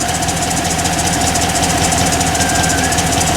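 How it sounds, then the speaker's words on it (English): A loud, steady engine idle with a fast rhythmic fuel pump tapping running through it, close by and unbroken, with no voices; an engine with failed lifters, cam damage and Active Fuel Management failure. "See that fuel pump tapping away, like they all do."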